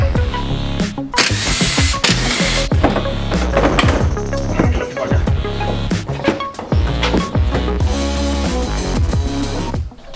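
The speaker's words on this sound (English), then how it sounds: "now we're just going to carefully remove the front bumper from the body of the vehicle" A front bumper is worked off a Mitsubishi MR Triton body during a bull bar fitting, close up with a dense, steady run of metallic clanks, knocks, rattles and scrapes and no talking.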